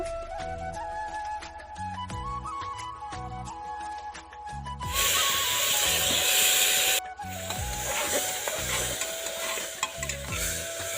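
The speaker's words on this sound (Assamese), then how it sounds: "জলকীয়া পিঁয়াজ অকণমান দি ভাজি ল'ম।" Green chilli and onion frying in mustard oil in a cooker. Light sizzling and stirring sit under steady background music, then swell into a loud, dense hiss about halfway through.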